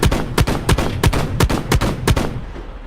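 Heavy shotgun-style weapon on a combat tank in the game Silica fires nine loud, evenly spaced booming blasts roughly every third of a second, each with a short ringing tail, then falls quiet.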